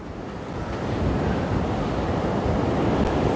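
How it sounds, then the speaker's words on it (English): Shore break waves roll onto an Australian beach with a broad, steady roar of surf that swells slightly louder after the first second, mixed with wind rumble and no voices. "Okay, so this shore break's gonna hit now, watch."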